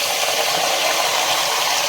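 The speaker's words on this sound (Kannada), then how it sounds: "ಸ್ವಲ್ಪ ನೀರು ಹಾಕ್ಕೊಳ್ತೀನಿ ನಾನು" Water is poured into a pan of ivy gourd (tondekai) gravy, making a steady, close rushing gush that lasts about two seconds with no pause or talk.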